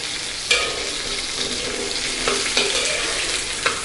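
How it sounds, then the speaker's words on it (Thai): Vegetables stir-fry in hot oil in a pan, a loud, close, continuous sizzle broken by a few scraping stirs, with no talking. "คลุกให้เข้ากันเพื่อให้น้ำมันได้ได้รัดตัวเขา"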